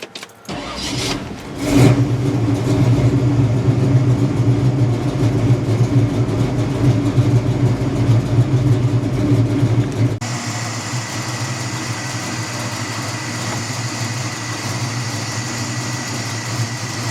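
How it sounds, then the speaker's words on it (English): A small-block Chevy 350 V8 with a mild cam and four-barrel carburetor, paired with a three-speed automatic, cranks and fires, then holds a loud, steady, lumpy idle close by with no talk. "It's a small block Chevy in it with a 3-speed automatic."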